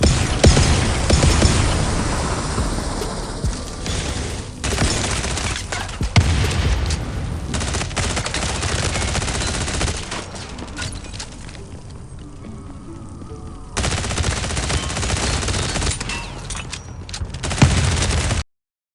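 Shotgun blasts in the mobile shooter Division Resurgence during solo combat with a Combat Medic tank build: loud, booming shots in quick succession over dense battle noise, easing briefly before another heavy burst of fire.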